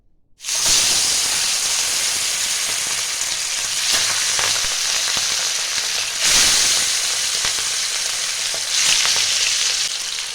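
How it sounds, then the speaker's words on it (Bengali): Pieces of catla fish hit hot oil in a pan, and a loud, close sizzle erupts at once. The hiss holds steady and surges again twice as more pieces go in, with no talking. "এবার একে একে মাছগুলো আমি দিয়ে দেবো।"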